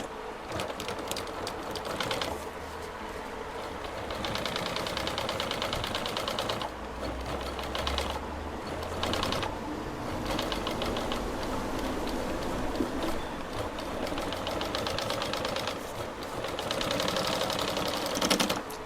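Sewing machine stitching a motorcycle seat cover for a Hero Splendor, running in a steady rapid ticking chatter through most of the stretch, close and fairly loud with brief pauses between runs.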